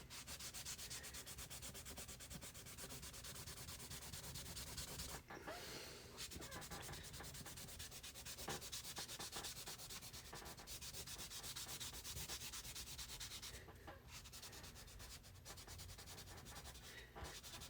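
Black soft pastel rubbed into paper, a steady dry scratchy friction that carries on close and continuous, with brief pauses in the strokes.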